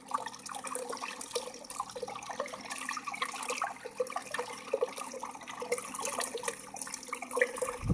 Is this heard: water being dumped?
yes